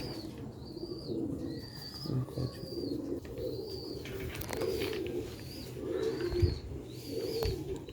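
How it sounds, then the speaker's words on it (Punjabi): Breeder pigeons of an old Sialkoti line coo in repeated low, throaty calls, close and fairly soft, with faint high chirps and small rustles around them. "ਸਾਡੇ ਕੋਲ ਦੋਸਤੋ ਭਰਾਓ ਬਰੀਡਰ ਕਬੂਤਰ ਹੁੰਦੇ ਨੇ"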